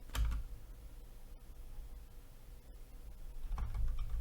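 Typing a grep command on a computer keyboard, a short run of steady key taps at close range with no talking.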